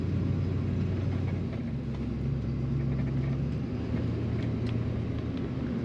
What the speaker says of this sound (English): Factory exhaust sound for the most part, in my opinion.